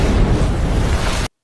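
A grenade explosion in the film Taken 2 bursts as a loud, broad roaring blast that holds for over a second before cutting off abruptly.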